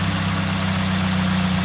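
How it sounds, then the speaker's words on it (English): Car engine idling steadily after lightweight aftermarket pulleys were fitted, a constant low hum with a faint vibrating drone running evenly throughout, close and moderately loud with no voices. "Engine temp is rising a little bit, so I'm just monitoring it. Just kind of letting it run."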